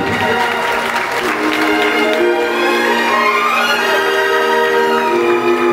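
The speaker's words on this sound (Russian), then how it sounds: "Ваши аплодисменты, уважаемые дамы и господа." Steady applause from a crowd fills the whole stretch, dense and even, with some sustained tonal music running underneath.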